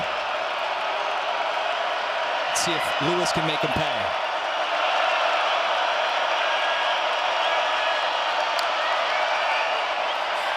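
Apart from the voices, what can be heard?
stadium crowd cheering at a college football game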